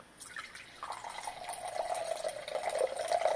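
Wine pours into a glass, a faint liquid trickle that builds steadily over a few seconds, heard alone without talk.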